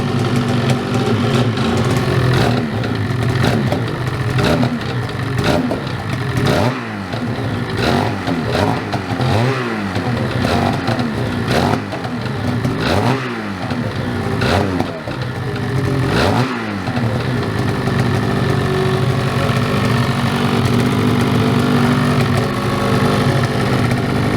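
A 2022 Ski-Doo 850 Turbo Expert 154 snowmobile engine running loud and close, idling with repeated throttle blips and turbo spool rising and falling, with no talk over it.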